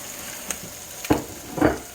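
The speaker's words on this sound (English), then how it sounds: "So I'm going to go ahead and put the pizza in there. Let it start cooking." Pizza loaded with toppings, including mac and cheese and smoked brat medallions, sizzles faintly as it starts cooking, with a steady low hiss broken by two louder bursts of crackle and movement near the end.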